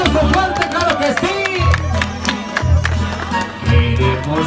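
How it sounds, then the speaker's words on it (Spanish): A crowd at a 2017 gathering in Teocaltiche claps and cheers in a busy, mixed wash of hands and voices, with low thumping beats pulsing under it and people talking throughout. "Y el aplauso, fuerte, claro que sí."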